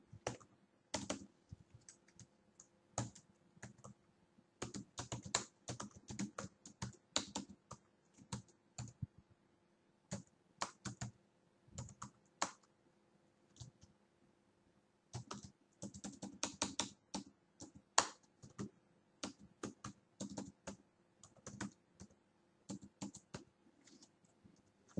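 Typing on a computer keyboard, close and quiet, in irregular bursts of rapid key clicks separated by short pauses, with no voices.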